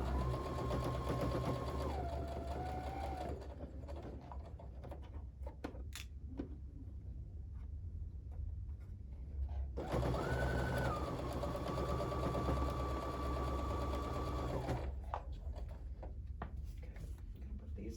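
A sewing machine stitches steadily over bulky quilt seams in two long runs, its motor whirring and laboring in places, with a quieter pause between them and no voices.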